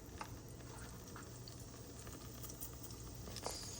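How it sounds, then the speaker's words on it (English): Cumin seeds crackling in hot oil at the start of a Punjabi vegetable pulao, a faint, steady sizzle with scattered small pops close by, no talking. "I have to put some cumin to get it popped"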